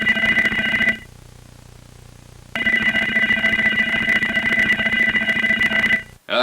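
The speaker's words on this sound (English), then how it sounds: "your doorbell is ringing" A doorbell rings inside a house in a low-budget horror movie, a loud steady electronic ringing that stops for about a second and a half, then resumes and carries on to the end.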